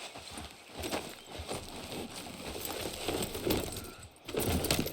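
Horse hooves clip-clop at a steady walking pace in Red Dead Redemption 2, close and clear over a light outdoor background.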